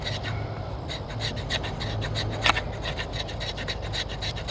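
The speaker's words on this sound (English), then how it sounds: "scrapes the fat wood better now." A coated bushcraft knife blade scraping fatwood with a rapid, rhythmic series of close rasping strokes, one sharper scrape standing out midway over a low background hum.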